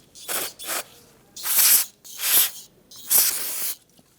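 Brake cleaner hisses in three pairs of short aerosol bursts onto rusty Honda Pilot front brake hardware, close and loud, with quiet pauses between sprays.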